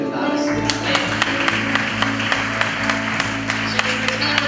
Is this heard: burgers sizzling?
no